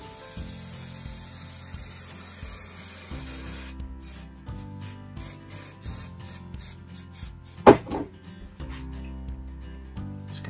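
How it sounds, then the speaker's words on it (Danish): Textile contact adhesive sprayed from a can, heard as a series of short hissing bursts separated by brief pauses, with one sharper louder burst midway, fairly close and without talk. "Det er noget tekstil kontaktlim."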